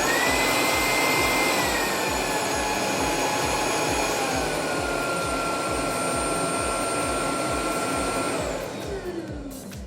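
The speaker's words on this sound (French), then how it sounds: "si on bascule sur les modes 1 et 2, l'aspirateur est plus silencieux" A Bissell Icon 21V cordless stick vacuum cleaner runs steadily with a loud whirring hum and a high whine, then winds down near the end.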